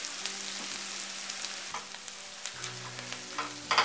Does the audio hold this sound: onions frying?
yes